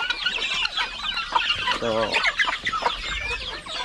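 Farm turkeys, including a male, cluck and call close by in a busy flock, with one brief gobbling burst in the middle, while a person speaks briefly over the noise.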